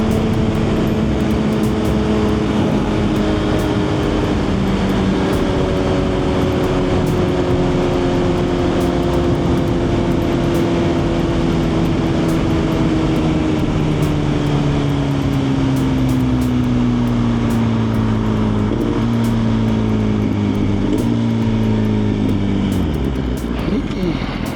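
A Suzuki GSX-R1000 sport motorcycle out riding, its engine droning loud and steady, the pitch slowly sinking as it slows and then shifting again near the end.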